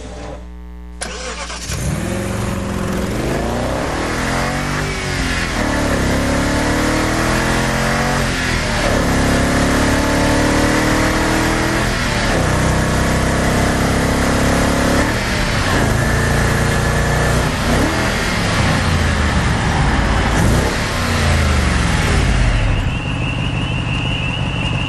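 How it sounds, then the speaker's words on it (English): BMW 6 Series engine starting and revving loudly, with repeated rising and falling acceleration sweeps over about twenty seconds, close and dominant, with no talking. "BMW 6 Series, the ultimate driving machine."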